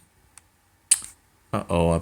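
Keys on a small computer keyboard are pressed in a few sharp, close clicks, followed by a voice starting to speak.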